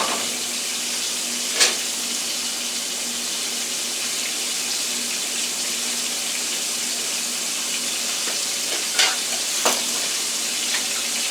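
Jumbo shrimp and scallops frying in a pan, a loud, dense, steady sizzle close up, broken by a few sharp clicks and spatters of the utensils.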